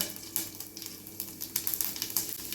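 Mustard seeds and cumin sizzling and crackling in hot oil for a radish stir-fry, with a steady close frying hiss broken by sharp little pops and spits, no voices.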